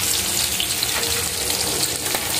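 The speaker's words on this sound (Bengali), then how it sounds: "এখন ইলিশ মাছ ভাজা হচ্ছে" Hilsa fish frying in a pan, a loud, dense, continuous sizzle of hot oil spattering close up throughout, with no voices.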